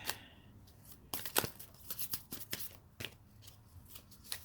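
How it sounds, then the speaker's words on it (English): Tarot cards shuffled by hand at close range, a quiet run of riffling, flicking and slapping bursts at an irregular pace, with no talking. "A couple more shuffles here is what Spirit's directing me to do."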